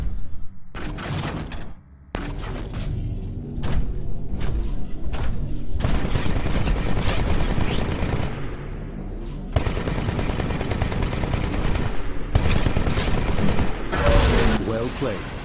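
Titanfall Vortex Shield absorbing and refiring gunfire in the video game, loud rapid bursts of automatic fire broken by short gaps and mechanical clunks, with a voice speaking over parts of it.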